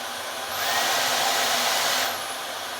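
A Dyson V15 Detect cordless vacuum whines steadily, then its motor ramps up into boost mode for about a second and a half, louder and higher, before dropping back to its normal pitch.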